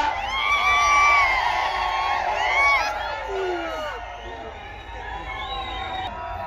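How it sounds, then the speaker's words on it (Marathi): A large crowd cheers, whoops and shouts at a political rally in Akkalkot, loud at first and then easing into a sustained, noisy roar of many voices. "जरा जल्लोष करून सांगा."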